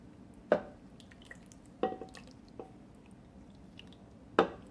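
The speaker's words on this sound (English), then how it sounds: "now I'm going to pour my spice mixture on top of it" Spice mixture being poured over chicken, red peppers and shredded carrots in a crock pot, heard as four separate wet squishy plops spread over a few seconds, close and fairly quiet, with no talking.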